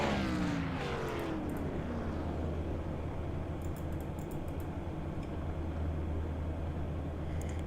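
Race cars in a video game at Watkins Glen roll slowly behind the pace car, a steady low engine drone with faint clicking like keyboard taps above it.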